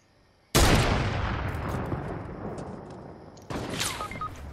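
Two loud sniper rifle shots ring out in a video game. Each is a sharp crack followed by a long, fading echo; the first comes early, the second about three seconds later.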